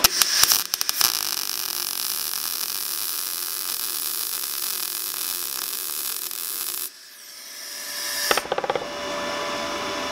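MIG welder running a bead on metal, a loud steady electric buzz and crackle for about seven seconds, then a short pause before the arc strikes again with some sputtering and hum.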